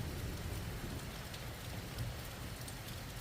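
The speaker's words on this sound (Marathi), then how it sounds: "तुफान पाऊस पडलेला आहे या भागामध्ये" Heavy rain in the Washi taluka area of Osmanabad district falls steadily as a dense, even wash of noise with a low rumble beneath, continuous and fairly faint, with no voices.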